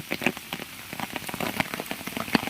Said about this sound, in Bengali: আজকে যেমন বৃষ্টি হইতেছে